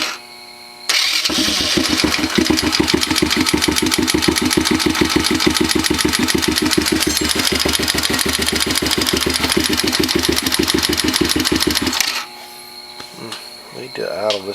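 A Chinese 110cc ATV engine with a valve issue idles steadily and loudly up close, a fast even putter running for about eleven seconds before cutting off, with no talk over it.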